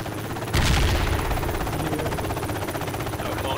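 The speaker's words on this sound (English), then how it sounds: "What the fuck is that chopper doing?" A helicopter in a war video game, a steady loud rotor roar that swells in after a sudden onset and fills the whole stretch, with gunfire-like bursts mixed into the din.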